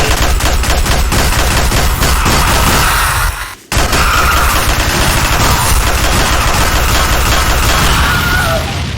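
Rapid shotgun gunfire in Garry's Mod, loud dense blasts running continuously with one brief gap near the middle, close and unbroken.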